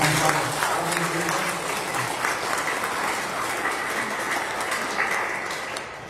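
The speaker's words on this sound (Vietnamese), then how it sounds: "Chúng ta chào đón các ngài cùng một tràng vỗ tay." Church congregation applauding at a Saturday vigil Mass, a dense, steady roar of many hands filling the space and tapering slightly toward the end.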